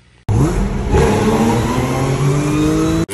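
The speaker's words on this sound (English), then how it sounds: "Supercharger!" A car engine fitted with a supercharger and an upgraded throttle body revs hard and holds high for about three seconds, loud and close, with a steady whine riding over the roar before cutting off abruptly.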